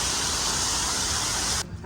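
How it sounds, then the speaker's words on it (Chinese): A small waterfall feature at a hotel lobby entrance gives a dense, steady rush of falling water close by, cutting off abruptly near the end. "大堂门口的瀑布小景也不错。"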